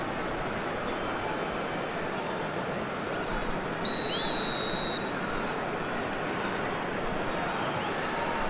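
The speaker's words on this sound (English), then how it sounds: "And the whistle's gone, presumably for offside." A referee's whistle in an eFootball video game sounds as one clear, sustained blast of a little over a second over a constant wash of stadium crowd noise.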